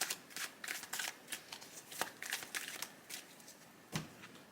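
Tarot cards being shuffled by hand, a run of crisp riffling flicks and soft papery slaps with brief pauses between bursts, close and moderately quiet, with no voice over it.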